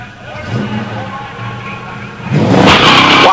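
A Hemi automatic 1969 Plymouth Road Runner launches off the line at a drag strip, its engine rising from a mid rumble into a loud, surging roar near the end as a voice is heard.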